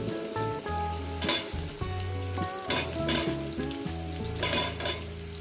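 Potatoes and pointed gourd fry in a pan for a potato-gourd curry, giving a steady close sizzle with brief louder bursts as pieces are added and turned, under a soft melodic backing.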